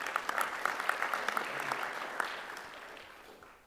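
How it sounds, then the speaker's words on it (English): An audience at a university honors convocation claps in a steady round of applause, moderately distant and fading gradually toward the end. "but still deserves a round of applause"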